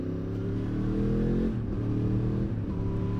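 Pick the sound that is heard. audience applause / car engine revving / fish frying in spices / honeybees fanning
car engine revving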